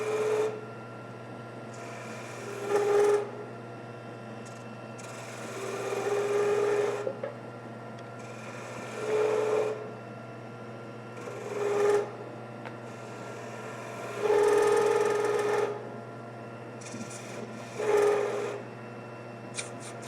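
A small spindle gouge cuts a tiny wooden keychain turning on a lathe, giving recurring scraping swells every few seconds over a steady low motor hum, with no talking.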